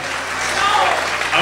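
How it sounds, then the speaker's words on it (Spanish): An audience at a karaoke bar in Paraguay applauds for the singer Johnny, a steady wash of clapping heard under a voice. "Y que suene un fuerte aplauso para Johnny,"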